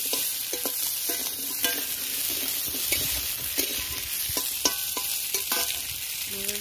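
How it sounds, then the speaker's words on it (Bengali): Pitha cakes fry in a little oil, with a steady close sizzle and occasional scraping and stirring clinks from the pan, and no voices. "একটু তেল দিয়ে দিলাম হালকা করে, একটু পিঠে তেল না দিলে পিঠে ভাজাই হবে"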